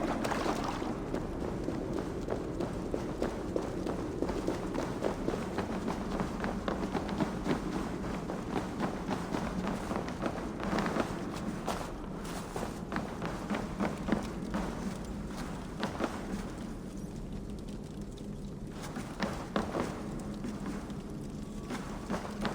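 Running footsteps in the video game Assassin's Creed Valhalla, a steady stream of quick, busy steps and rustle over a dense game soundscape, continuous and fairly loud throughout with no talk.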